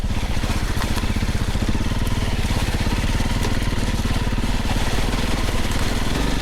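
Voge 300 Rally or Honda CRF 300 Rally dirt bike ridden off-road, a loud steady single-cylinder engine drone with rapid pulsing exhaust beats and wind rush, continuous and close.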